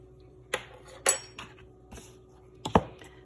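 Crumb topping of butter and cinnamon being mixed in a bowl, heard as a few sharp clinks and scrapes of a utensil against the bowl, spaced irregularly over near silence.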